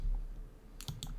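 A few quick clicks of keys on a computer keyboard, two or three close, crisp taps in a quiet room.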